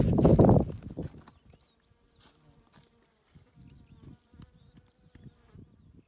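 Bees buzz faintly and intermittently outdoors in rural Portugal after a brief loud rustling burst at the start, with soft scattered knocks underneath.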